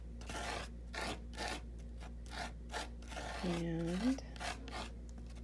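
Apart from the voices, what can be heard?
palette knife spreading modeling paste over stencil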